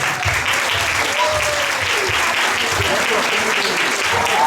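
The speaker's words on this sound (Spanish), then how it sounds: "O sea que un aplauso tremendo." A large audience at an intercultural event in 2019 breaks into loud, sustained applause, a thick even roar of many hands clapping throughout, with faint voices buried beneath.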